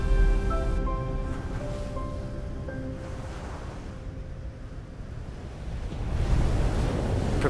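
Ocean waves breaking at Pipeline surf break, a steady roar of surf and wash throughout, swelling louder toward the end, with wind buffeting the microphone and some faint tonal hum underneath.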